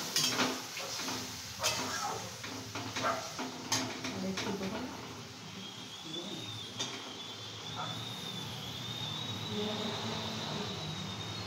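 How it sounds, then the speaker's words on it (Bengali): Cashew paste being stirred in a pan for a Nabratan korma, a steady scraping and clattering of a spoon against the pan, moderately close, with soft sizzling underneath and a few sharper clinks early on. "মা কাজু বাদাম পেস্ট দিয়ে ভালো করে নাড়িয়ে নিয়েছেন যাতে তলায় লেগে যায়"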